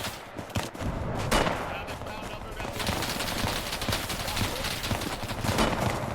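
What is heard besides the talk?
machine gun fire in a milsim video game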